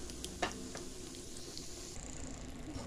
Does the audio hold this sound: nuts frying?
yes